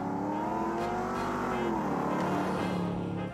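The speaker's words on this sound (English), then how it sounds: "The old timers will tell you that nothing sounds like a flathead." Ford flathead V8 cars run together on a historic cruise around the Dearborn test track, a steady layered engine hum with harmonic tones and no break or pause.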